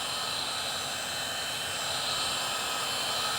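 A heat gun blows a steady, loud rush of hot air across vinyl-wrapped window trim, a continuous broadband whoosh that holds even throughout with no pauses.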